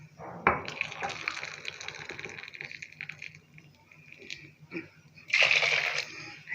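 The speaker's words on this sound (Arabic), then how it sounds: "هنجيب الميه بقى المغليه نحطها عليه" Boiling water poured from a kettle onto banana jelly mix, an uneven splashing trickle that starts abruptly, fades, then surges again near the end, close and fairly quiet.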